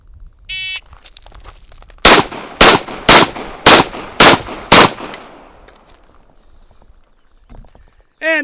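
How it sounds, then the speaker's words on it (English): Six sharp rifle or carbine gunshots fired in quick, even succession while the shooter moves forward, loud and close, with a brief beep before the string and a faint tail of echo after. "First string of fire, 6 rounds moving forward."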